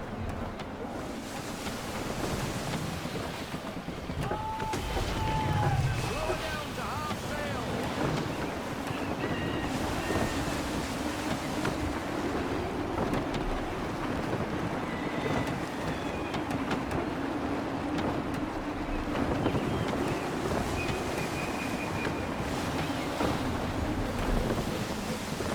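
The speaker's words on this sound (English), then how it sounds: "Gusty winds can be difficult to manage." Wind gusts and waves wash steadily around a sailing ship at sea in Assassin's Creed 3, forming a continuous broad rushing roar with creaks and faint higher tones, no talking.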